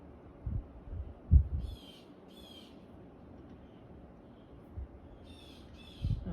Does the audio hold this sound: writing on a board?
no